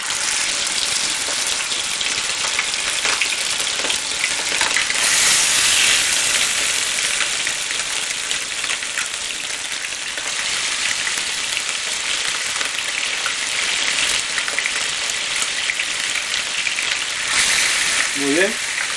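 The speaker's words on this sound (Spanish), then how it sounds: "Vamos a dejar que se dore. Vamos a dejar que fría lentamente" Chicken drumsticks wrapped in bacon fry in hot oil in a pan, giving a loud, steady crackling sizzle that runs throughout.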